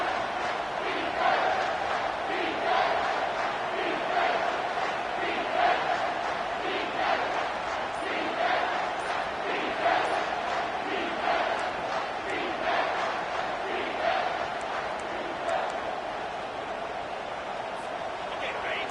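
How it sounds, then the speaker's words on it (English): Stadium crowd in a Madden football video game roars continuously at a steady, loud level on a third down, a dense wash of cheering and yelling with no clear pauses. "Third down, and this crowd will blow out a vocal cord to help this defense."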